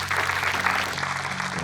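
An audience at the Replit startup launch applauds, a steady, full wash of clapping heard from within the crowd, with a low hum running beneath it.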